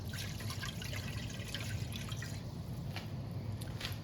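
Apple cider vinegar pours in a steady, continuous stream with soft trickling and occasional drips, close by and without any talking.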